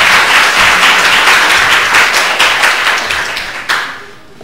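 A church congregation applauds during a Mandarin-language worship service, a loud, dense burst of many hands clapping together that gradually fades over about four seconds.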